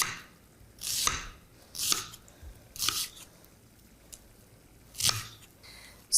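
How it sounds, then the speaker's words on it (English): An onion is chopped with a knife in about five separate, crisp strokes, spaced roughly a second apart. The cuts sound close but fairly quiet in a still room, with no talk. "Now we have to cut the onion."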